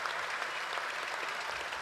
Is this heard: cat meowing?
no